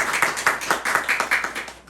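A church congregation at a Sunday service claps in encouragement, a run of quick, evenly spaced hand claps at a moderate distance with no speech.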